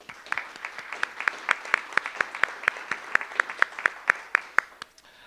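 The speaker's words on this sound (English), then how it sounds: "Round of applause." A small group claps at a school board of education meeting, a brief round of sparse, evenly spaced claps heard from a moderate distance in a quiet room.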